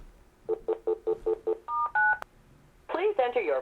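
A Panasonic DECT 6 cordless phone dials a voicemail PIN, sending a quick run of six evenly spaced beeps, then two longer dual-tone notes, before a recorded voice speaks.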